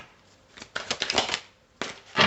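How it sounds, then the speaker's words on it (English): A deck of tarot cards shuffled by hand, two crisp riffling bursts close up, separated by a short pause, with a final rush at the end. "as you can see, I still cannot shuffle"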